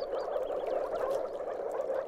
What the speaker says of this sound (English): an incessant glugging sound reverberates throughout some moors. It's the call of the moor frog.